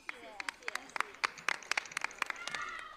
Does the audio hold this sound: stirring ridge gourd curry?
no